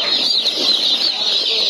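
Brown turkeys and other poultry at a market give off dense, overlapping clucks and calls, a loud, busy chorus of birds close by with no clear talk.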